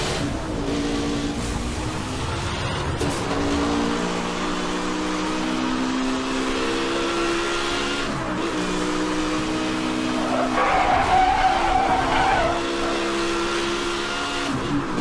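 Cars racing in the Need For Speed video game, with steady engine drone and revving throughout and a brief tire skid partway through, all fairly loud with no talk over it.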